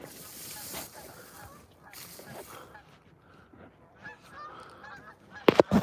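Birds honking in a few scattered calls as they fly overhead outdoors, fairly faint at first with a louder burst at the end, while someone talks nearby.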